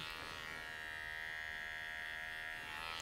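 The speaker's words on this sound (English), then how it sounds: "I turn the clipper upside down and go straight down against the grain" An electric hair clipper buzzes steadily at close range, held upside down and run against the grain through thick hair during a barber class, a continuous loud whine with no pauses.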